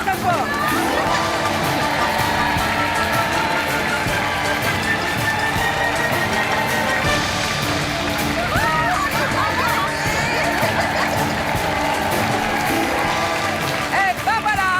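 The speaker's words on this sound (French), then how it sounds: "Et on vous applaudit très fort." A game show studio audience applauds and cheers steadily, dense continuous clapping with crowd noise and some talking over it, loud and close.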